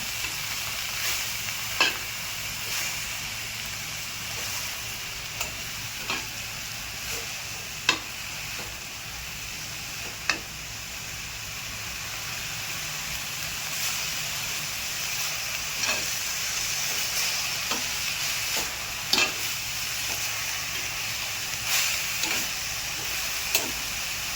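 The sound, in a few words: sautéing and stirring dill greens in a pan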